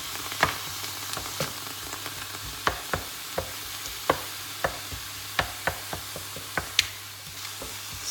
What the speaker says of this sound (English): Stir it all around.